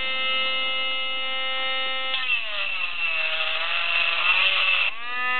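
An electric engraving pen buzzes with a steady high-pitched mains-like hum as it engraves a name on a glass mug, its tone shifting and grinding harder midway when the tip bites into the glass.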